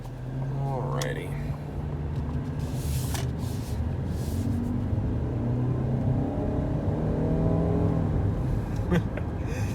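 A 2021 Ford Escape Titanium hybrid accelerating briskly to merge with traffic, its engine and road noise rising in a steady, building drone heard from inside the cabin, with a person talking over it.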